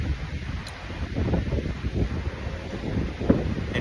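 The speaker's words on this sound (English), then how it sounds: "the wind is blowing" Outdoor wind buffeting a microphone, a continuous low rumbling roar with gusty swells and no other distinct sounds.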